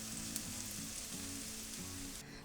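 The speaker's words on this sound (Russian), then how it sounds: "В самом конце добавляем раздавленный чеснок." Crushed garlic frying in a skillet alongside trout, a faint, steady sizzle and crackle that stays low and even throughout, with no talk.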